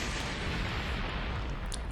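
A dense, rumbling explosion effect in a fan-made Goku animation, a continuous booming roar that holds at a steady level throughout with no voices over it.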